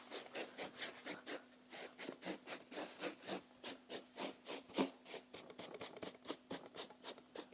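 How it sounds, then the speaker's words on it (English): A large brush sweeps dust off thrifted wall decor in quick, rhythmic back-and-forth strokes, close and soft, each stroke a distinct bristly swish. "I'm just going to take a bigger brush, kind of brush off the excess"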